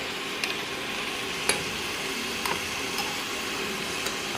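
Carrot halwa stirred with ghee in a pan, a low, steady sizzle with a handful of light spatula taps and scrapes at uneven intervals, close but fairly quiet.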